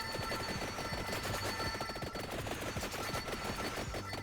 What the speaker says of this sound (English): shoots these big fireballs that just go through all the enemies